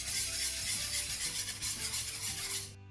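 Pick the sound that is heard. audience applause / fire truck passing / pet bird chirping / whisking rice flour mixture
whisking rice flour mixture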